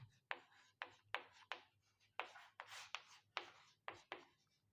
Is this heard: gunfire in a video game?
no